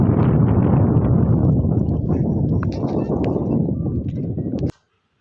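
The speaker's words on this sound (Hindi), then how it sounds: "यहाँ टॉप पे इतनी तेज़ हवा चल रही थी" Strong, icy wind on a mountain top above Kullu buffets the microphone in a loud, continuous roaring rumble that stays steady for several seconds, then cuts off abruptly.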